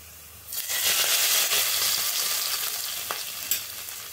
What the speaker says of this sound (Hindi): अब हम लगाएंगे तड़का।